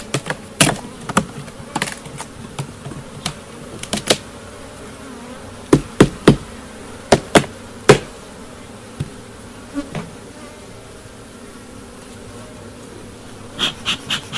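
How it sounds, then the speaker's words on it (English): Honey bees hum steadily around an opened honey bee colony during honey removal, a low continuous drone broken by sharp knocks and taps of hive equipment, some close and loud. "chase those few bees away"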